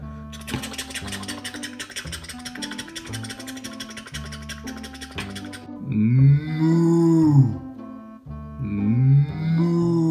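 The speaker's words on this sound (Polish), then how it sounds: "Krowa się pasi!" A cartoon cow moos over bouncy children's music, a loud, drawn-out low call rising then falling, followed by a second shorter moo near the end, with the backing tune continuing beneath.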